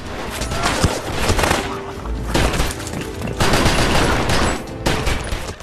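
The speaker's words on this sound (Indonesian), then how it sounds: "Mason yang mengetahui hal itu langsung menghujani peluru ke arah Bridge dan anak buahnya." Gunfire in an action film as bullets are sprayed at enemies, a dense, loud, continuous barrage of overlapping shots and impacts with no clear breaks.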